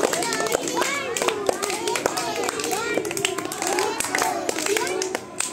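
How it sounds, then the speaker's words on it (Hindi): Schoolchildren in a classroom clapping in quick, uneven bursts for a classmate, sharp nearby claps mixed with excited children's voices and chatter. "नूर खान के लिए सब लोग स्पेशल ताली बजाएंगे"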